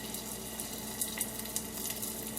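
Garlic and onion browning in a home-kitchen pan give off a soft, steady sizzle with faint crackles and small pops, quiet and continuous with no voices.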